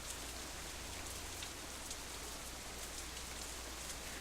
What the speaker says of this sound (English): Raindrops hitting the umbrella make a distinctive sound, playing the staccato melody of rainfall for nobody in particular.